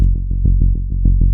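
A single saw wave synth bass oscillator, pitched down an octave, pulses in quick repeated buzzy low notes, loud and close.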